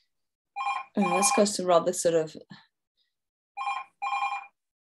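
A mobile phone rings during a morning prayer reading, sounding in short repeated bursts of bright electronic trilling, with a person talking over the first rings before two further rings stand alone.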